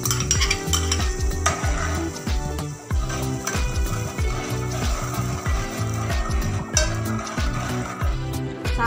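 A pot of ghee and yogurt mixture sizzles on full flame as it comes to a boil, while a spoon stirs and scrapes the pot in a quick, steady, repeating rhythm.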